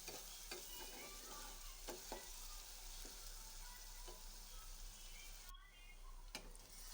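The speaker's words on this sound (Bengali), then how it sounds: "পেঁয়াজগুলোকে খুব ভালো করে ভেজে নিব।" Onions fry in oil in a wok, giving a quiet, steady sizzle with occasional clinks and scrapes of stirring.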